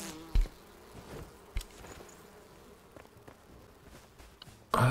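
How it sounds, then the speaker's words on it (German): Bees buzz faintly and continuously in the fantasy survival game Enshrouded, a soft insect drone broken by a few sharp thumps and clicks, ending on a loud burst of game noise. "Also mit den Bienen, mit dem habe ich jetzt nicht gerechnet."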